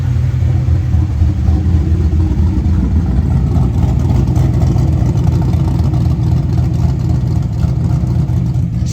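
A 1988 IROC-Z engine with bad lifters idles and runs loud and close, a steady dense rumble that holds throughout with little variation.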